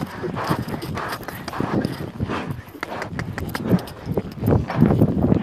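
Steady clip-clop of horse hooves on the ground, a rhythmic trotting beat that stays close throughout.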